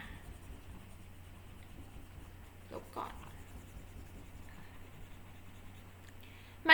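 A pen mouse scratches and taps faintly across a tablet as a teacher writes fractions for a maths lesson, quiet steady scribbling with a couple of sharper clicks over a low hum.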